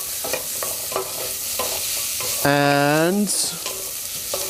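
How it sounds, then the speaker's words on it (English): Ginger sizzles in a pot with browned onions for a potato and cabbage soup. The sizzling runs steadily and close, broken by a few scraping stirs and one brief rising squeak midway, with a single spoken word at the end. "I'm just going to quickly sweat that ginger for about a minute or so"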